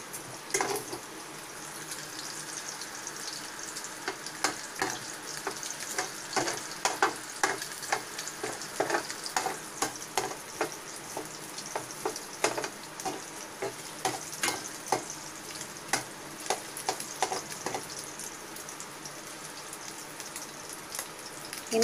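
Garlic and ginger sizzle in hot cooking oil in a pan while being stirred, a steady crackle broken by frequent short scraping and clinking strokes from the spoon, fairly quiet and close, with no talk.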